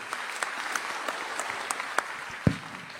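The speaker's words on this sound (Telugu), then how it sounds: "గట్టిగా చప్పట్లు కొట్టి వీళ్ళని కూడా అభినందించారు" An audience at a public government programme in Andhra Pradesh gives a short round of applause, with steady clapping that swells into a sharper burst near the end and no speech over it.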